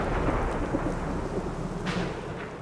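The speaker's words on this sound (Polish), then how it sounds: "wind flare coming in fast." A windflare storm in Gears of War 4 roars steadily with rumbling thunder and rushing wind and rain, loud and continuous with no talking.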